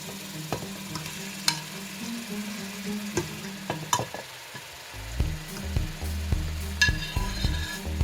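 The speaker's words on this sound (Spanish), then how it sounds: "Una vez que el cilantro también está bien integrado al sofrito, le vamos a agregar los trozos de pollo." Chicken pieces frying in a cilantro sofrito for Peruvian aguadito de pollo, a steady close sizzle with scattered clinks and stirring scrapes, the frying growing louder and denser toward the end.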